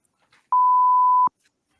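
A single loud, steady electronic game show buzzer beep at one pitch sounds alone for under a second during a trivia game show podcast, with brief faint sounds before and after.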